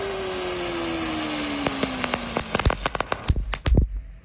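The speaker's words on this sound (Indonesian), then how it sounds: "Lanjut di sini ada mercon Terate Pratek yang warna hijau. Kita nyalakan." A green Terate Pratek firecracker is lit and goes off at night: a steady hissing fuse with a falling whistle, then a rapid run of sharp, loud cracks and bangs close by before it cuts off.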